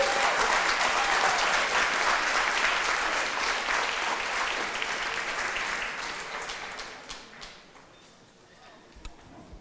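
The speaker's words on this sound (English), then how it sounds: "let's give her a round of applause" Audience applauding steadily at a live event, dense and sustained clapping that gradually fades over the last few seconds to a few scattered claps, with no speech.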